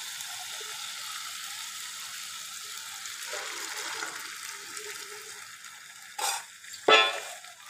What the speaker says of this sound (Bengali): এখন আমি এতে মাংসটা ঢেলে দেব।